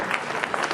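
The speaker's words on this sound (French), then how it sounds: "on applaudit ce très très beau podium." Brief burst of crowd applause for a podium at an outdoor raid event, individual claps standing out in a quick, uneven patter.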